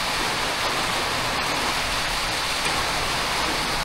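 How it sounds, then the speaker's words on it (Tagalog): Heavy rain pours down steadily, a dense, loud, continuous hiss of falling water with no let-up and no voices. "Umulan na."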